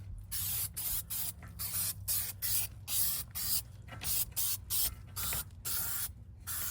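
Spray glue from an aerosol can sprayed onto a patch for a mobile home rodent barrier repair, a series of close, short hissing bursts with brief pauses between them.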